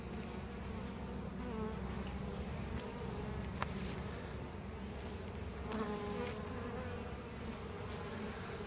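Honey bees buzzing steadily around an open hive during a spring inspection, with a dense, constant hum up close and faint clicks of frames being handled.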